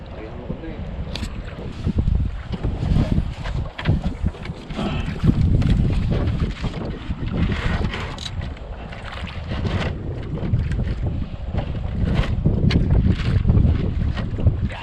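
Strong northeast monsoon wind buffets the microphone in loud, rumbling gusts for the whole stretch on a handline fishing boat, mixed with water and boat noise, while people talk now and then.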